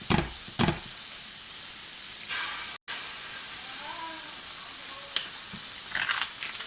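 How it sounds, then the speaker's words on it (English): An egg frying in a pan beside mushrooms pushed to one side, a soft continuous sizzle with a few brief clatters and scrapes near the start, quiet and close. "I'm just going to push them to the side and fry the egg."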